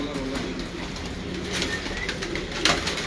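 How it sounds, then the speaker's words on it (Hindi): A pigeon belonging to Lodhi Sahib coos on a rooftop loft, low murmuring calls steady and close against a noisy, breezy background, with a slight flutter near the end. "ये वजी लोधी साहब का कबूतर है"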